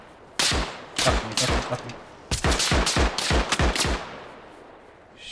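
Gunfire in the Arma Reforger military shooter game, with several bursts of automatic fire and single shots cracking close and loud, separated by brief pauses, while a man swears briefly.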